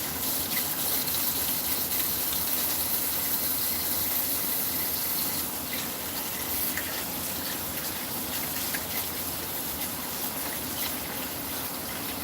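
Tap water runs steadily into a kitchen sink during handwashing, a continuous broad hiss that holds at a fairly loud, even level throughout with no talking.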